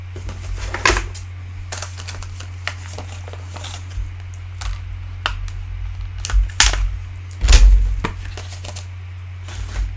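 Paper being cut with scissors to free a small butterfly shape from a rubber stamp set: scattered crisp snips and rustles, close and fairly quiet, over a steady low hum, with no talking.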